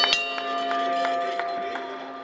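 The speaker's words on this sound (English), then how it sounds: "the bell has sounded, and we are underway" Ring bell at a live-taped independent wrestling match, struck in a rapid series of sharp metallic clangs with ringing tones that linger, fairly loud over a busy arena background.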